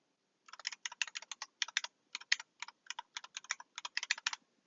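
Fingers type quick bursts on a computer keyboard to enter a Windows 10 folder name, with crisp, close key clicks in uneven runs and short pauses.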